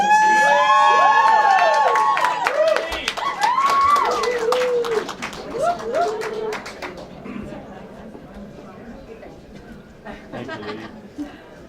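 At a Catwoman exhibit unveiling in Hollywood, a large crowd cheers and whoops with scattered clapping, loud at first and then fading into murmuring voices.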